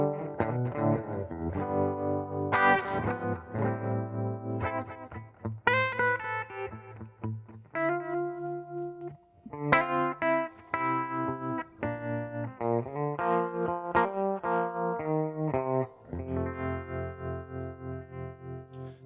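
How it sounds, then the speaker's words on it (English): Guitar played through a vibrato effect pedal, distorted chords and note runs pulsing with a wavering, chorus-like shimmer, steady and fairly quiet with no talking. "Vibrato is kind of a cool effect where you can, if you play it just right with a tempo, you can actually get it to fatten up your sound"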